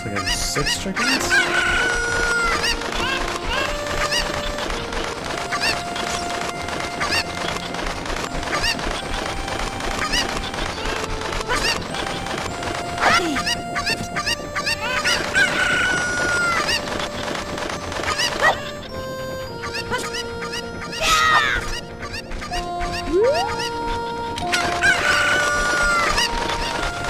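Chickens in The Legend of Zelda: Ocarina of Time cluck and squawk again and again over continuous in-game music, with rooster-like crows and honking calls recurring loudly throughout.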